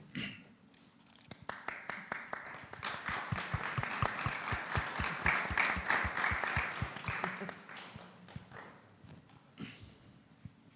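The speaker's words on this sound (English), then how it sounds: "And give that person an applause." Applause from an audience at a travel event, a mix of individual sharp claps that swell into a dense round across the middle and thin out near the end, with faint background murmur.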